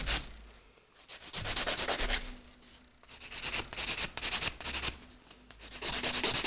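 A nail file works over a gel nail extension in a salon, making close, soft rhythmic rasping strokes that come in bursts with short pauses between them.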